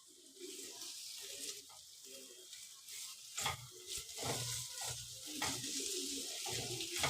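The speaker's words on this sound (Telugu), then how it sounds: "తర్వాత గోల్డెన్ కలర్ వచ్చేంత వరకు ఫ్రై చేసుకోవాలి దొండకాయలు." Ivy gourd (dondakaya) pieces sizzle and crackle in hot oil over a medium flame, a steady frying hiss with stirring clatter beneath a voice speaking.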